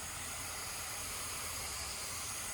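Wax spraying from a self-serve car wash wand makes a steady, even hiss of pressurized spray that holds unbroken and fairly quiet for the whole stretch, with no voices.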